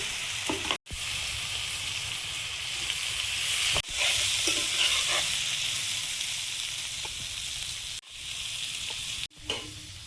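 Egg and potato curry fries and sizzles in a pan with a steady loud hiss, broken by a few sharp stirring scrapes and brief gaps as the spoon moves through it.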